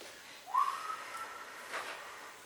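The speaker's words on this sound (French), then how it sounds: "J'entends bien un sifflement" A contestant asked to blow produces a short rising whistle instead, one brief faint tone followed by breathy air, in a quiet game-show setting.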